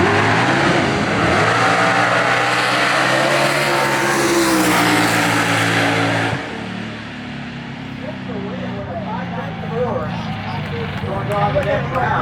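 Race cars at a Street Car Takeover drag strip event in Houston, a loud roaring engine rising in pitch as it accelerates, then fading into a rumbling crowd atmosphere, with people talking throughout.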